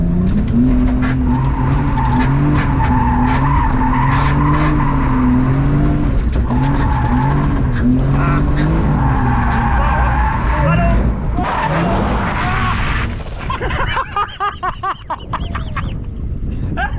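A budget £2,000 drift car slides through transitions with a loud, close engine drone warbling up and down, then sharp tire squeal and skidding bursts late in the run as the revs drop and stutter.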